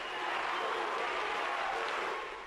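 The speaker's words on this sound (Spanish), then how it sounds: "Esta sentencia histórica ha sido aplaudida por las víctimas." A crowd of victims applauds a historic genocide sentence in a Guatemalan courtroom, a steady dense patter of clapping at moderate distance that fades slightly at the end, with no clear speech over it.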